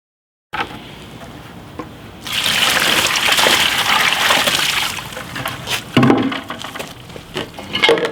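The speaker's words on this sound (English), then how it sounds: "So I already have it in a bucket right here. We're gonna just drop this in and mix it up." Dry concrete mix drops into a bucket of water and is stirred, giving a sustained close sloshing and gushing wash with a few sharper splashes and scrapes toward the end.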